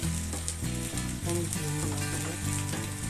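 Wheat grains and chicken gizzards frying in a pan, a loud, steady sizzle with crackling and faint stirring scrapes, close up and continuous with no talk.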